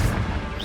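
A brief, heavy crash as a Confringo spell strikes its target in the video game Hogwarts Legacy, one fiery smashing impact with a booming low end.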